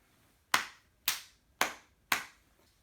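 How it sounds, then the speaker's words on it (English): Schoolchildren at a primary school celebration assembly perform a crocodile clap: four loud, sharp claps in unison, evenly spaced about half a second apart, with quiet between them. "It's a crocodile clap."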